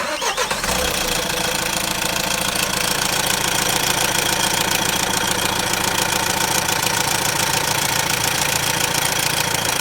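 A Renault 1.6 dCi diesel engine, due for a timing chain replacement, cranks and starts, then settles into a loud, steady, clattering idle heard up close with no talk.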